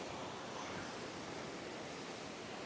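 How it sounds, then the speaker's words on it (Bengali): Sea waves wash ashore on a Chennai beach as a faint, steady broadband surf hiss with a little wind. No one speaks. "দেখেন সমুদ্রের জল এসে আমাদেরকে হাতছানি দিচ্ছে"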